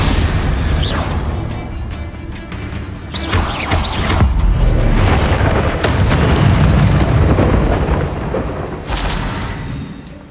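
A Bombarda spell explodes in the Hogwarts Legacy video game, with loud, rumbling booms and crashing bursts that overlap almost without pause for several seconds.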